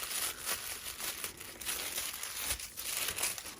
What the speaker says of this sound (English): Let's unwrap. It's very soft.